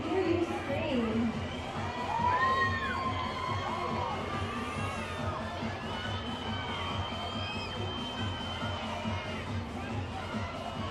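Fans at a minor-league ballpark game between the Long Island Ducks and Southern Maryland Blue Crabs scream and cheer for a t-shirt toss, a steady distant crowd roar with children's shrieks and whoops rising through it.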